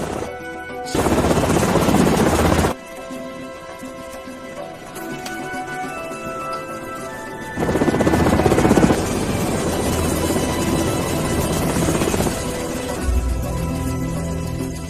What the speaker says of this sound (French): Pourquoi est-ce que notre hélicoptère n'atterrit pas?